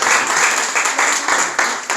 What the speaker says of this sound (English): Let's give our hostesses a hand clap also for serving.